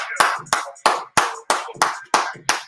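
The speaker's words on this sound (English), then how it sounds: "Let's clap it up." Audience clapping in unison on a steady beat, about eight sharp, loud claps spaced roughly a third of a second apart, close and clear with no talk over them.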